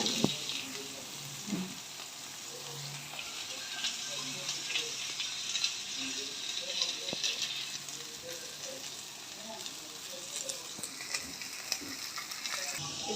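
Cabbage pieces frying in a pan of tempering with curry leaves and green chilli pieces, a steady sizzle with stirring scrapes and crackles, close and continuous.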